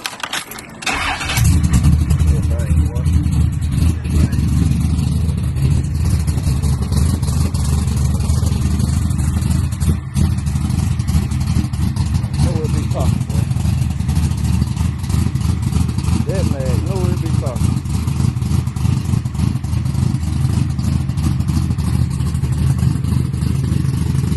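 A car engine cranks and catches, then settles into a loud, rough, rumbling idle with small revs, close by and continuous for over twenty seconds, with a voice faintly under it.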